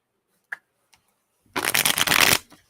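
Tarot cards shuffled close by, a single brisk riffle of under a second of dense papery flutter, preceded by a couple of faint taps.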